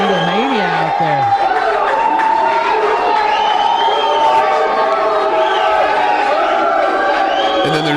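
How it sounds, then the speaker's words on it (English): A large crowd cheers and whoops continuously as Trump walks out, a dense loud roar of many voices, with a voice audible briefly over the noise at the start. "You hear the crowd while he's coming out."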